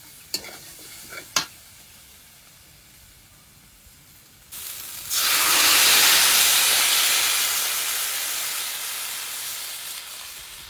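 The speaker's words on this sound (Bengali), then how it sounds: "এবার জল দিয়ে দেবো" Water poured into a pan of fried potatoes and cauliflower sets off a loud, sustained hiss and sizzle that surges after a few quiet seconds with a couple of sharp clicks, then slowly fades.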